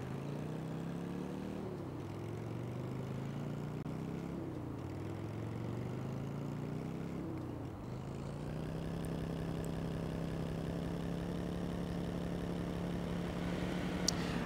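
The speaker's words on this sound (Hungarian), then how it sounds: "Jó, ez a motor amúgy, csak ne lenne olyan nagyon-nagyon nehéz kanyarodni vele, de amúgy király." A motorcycle engine in GTA San Andreas Definitive Edition hums steadily, its pitch rising and falling in short waves before settling into an even drone.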